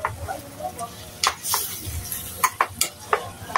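A shrimp dish is stirred in a cooking pan. Soft sizzling runs beneath sharp scraping strokes and clanks of a utensil against the pan, which come in quick bursts near the end.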